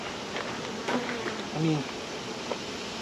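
Honeybees buzzing around a hive's entrance on a sunny day, a thin, steady hum close by with a voice speaking intermittently over it.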